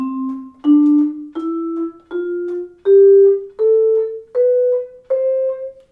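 Eight vibraphone notes climb one by one, each clearly separated by a short silent gap, giving a choppy, detached feel.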